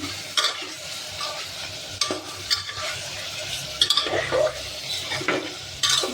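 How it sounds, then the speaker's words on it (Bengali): Marinated mutton frying in a pan, a soft steady sizzle broken by repeated spatula scrapes and metallic clinks against the pan, close and fairly quiet. "এটাকে একটু ভেজে নিই"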